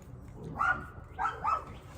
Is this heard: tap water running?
no